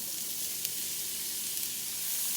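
Onions and garlic sizzling in hot oil in an iron skillet, a constant hissy crackle at low level with a couple of tiny pops, close by and without any voices.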